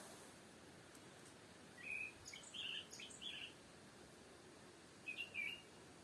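A few distant birds call in brief chirping bursts against soft steady spring forest ambience with a faint insect-like hiss.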